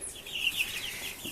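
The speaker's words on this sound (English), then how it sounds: "here are our little barred rocks that were in the crib" Young barred rock chicks kept in a locked-down coop cheep and cluck softly in a brief burst of close, high calls.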